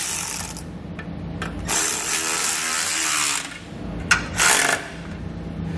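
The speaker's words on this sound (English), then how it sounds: "To tighten it up, I'm going to be using a 9/16 socket." A socket ratchet with a 9/16 socket tightening carriage bolts during a rear-axle air helper spring install, giving a run of close, steady clicking strokes with brief pauses between bursts and no talking.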